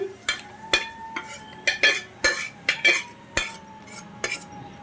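A vessel of lemon rice (pulihora) being mixed with a spoon, giving a series of about a dozen sharp metallic clinks and scrapes in an irregular rhythm, close and fairly loud, with no talking.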